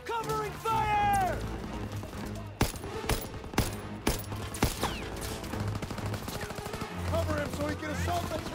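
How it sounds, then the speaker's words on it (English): Machine gun fire in the World War II video game Call of Duty: WWII, with bursts of gunfire and sharp shots under shouted voices, music and battle noise. "You gotta suppress the machine gun."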